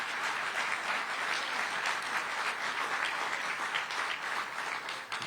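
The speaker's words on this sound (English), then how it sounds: "That deserves a huge round of applause" An audience at a university hall dedication breaks into a big, sustained round of applause, a dense, even wash of clapping that holds steady throughout.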